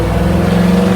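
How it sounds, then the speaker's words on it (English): A car engine that has just started rumbles through its exhaust, loud and close, as a steady, throaty drone with no talking. "love the exhaust"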